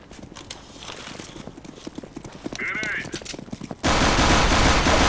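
Gunfire in CS:GO comes as rapid bursts of sharp, clipped shots over game sounds, with voices talking in the background, then a sudden loud, sustained blast of noise near the end.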